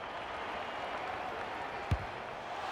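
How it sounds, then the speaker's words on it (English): A simulated football-match crowd in the AFL 26 video game, Fremantle against Essendon, rumbles as a steady, even wash of noise throughout, with one brief thump near the end. "The crowd noise tells you all you need to know."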